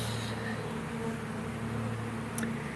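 Honeybees swarm around a colony in a tree, a faint, steady low buzz from many insects with no break, quiet and alone.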